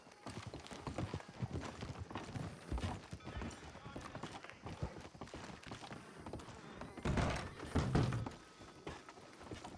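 Steady clip-clop of horse hooves on a hard surface with dense thuds and knocks throughout, close by and fairly loud, with some voices mixed in.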